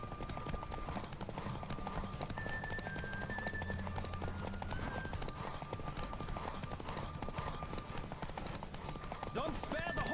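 Hoofbeats of a horse galloping in a race in The Witcher 3 pound steadily under game music and overlapping speech.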